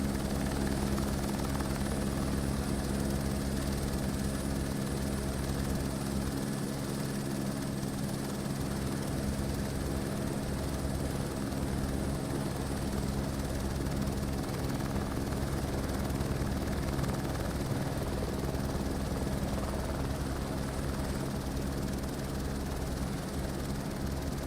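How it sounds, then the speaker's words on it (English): Helicopter in Microsoft Flight Simulator 2024, a steady, loud rotor and engine drone with a low rhythmic thump and a constant turbine whine, unbroken for the whole stretch with no talk. "the helicopter sounds are still right behind me."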